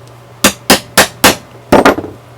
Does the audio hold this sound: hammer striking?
yes